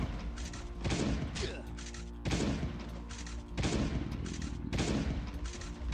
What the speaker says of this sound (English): With the Genesis shotgun.